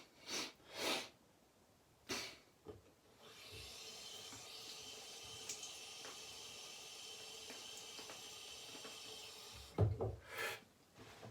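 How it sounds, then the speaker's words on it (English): A person sniffs repeatedly while cleaning the nose during a straight razor shave, sharp close bursts at the start and end around a steady hiss of rubbing in between. "Just had to clean the nose so there will be no sneezing against the grain."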